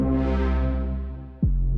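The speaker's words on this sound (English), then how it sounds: "it's a really beefy kind of cinematic sort of bass sound" A deep, heavy cinematic synth bass note swells and sustains, then a second low hit drops in with a downward growl.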